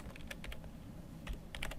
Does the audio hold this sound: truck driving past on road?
no